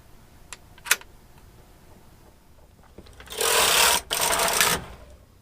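A knitting machine's carriage is pushed across the needle bed to knit a full row, a loud whirring, clattering rush lasting over a second with a short break, after some soft clicks and a sharp knock.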